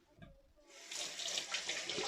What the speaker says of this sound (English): Let's wet it. We're using cold water.